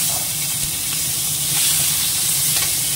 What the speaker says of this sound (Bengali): এই চিংড়ি মাছটা দিয়ে দেবো,